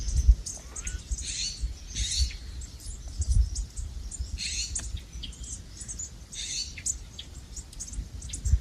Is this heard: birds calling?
yes